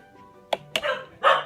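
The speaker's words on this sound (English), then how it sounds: "What's the dog barking at?" A dog gives a few sharp barks indoors in a kitchen where a hamburger-shaped fondant cake is being decorated, two short yips followed by a louder, longer bark, fairly close with no talk over them.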